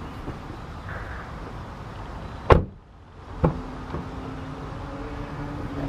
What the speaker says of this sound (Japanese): 意外とドアが重いです。